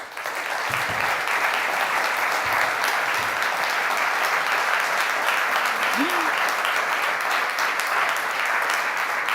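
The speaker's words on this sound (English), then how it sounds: "can I have a warm applause" Warm audience applause at a lecture hall event on agriculture and land use, loud, sustained and dense clapping from a large crowd, a faint voice briefly audible near the middle.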